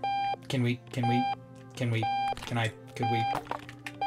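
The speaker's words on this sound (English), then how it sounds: "Oh no, it's just my alarm clock." A ringing alarm clock in the video game Octodad: Dadliest Catch repeats a series of loud electronic beep bursts in a rapid rhythm, and a person speaks briefly over them.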